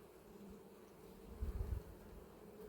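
Calm, queenless honey bees hum softly around an open hive at an apiary, a faint low steady drone with a slightly louder swell midway, no talking.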